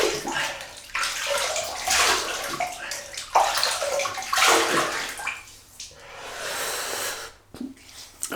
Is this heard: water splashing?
yes